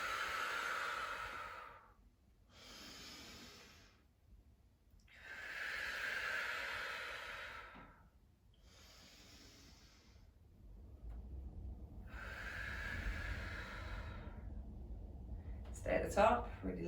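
Slow, deep breathing during a yoga exercise: long airy inhales and exhales alternate in a steady rhythm, close and clear, with a soft low rumble of background room noise.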